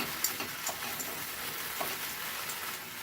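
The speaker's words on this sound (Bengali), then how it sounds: "দেখুন, আমি কিন্তু অনবরত নাড়ছি।" Salted leaves cook down in a pan under constant stirring, giving a soft, steady sizzle broken by faint scraping taps, all quiet and close.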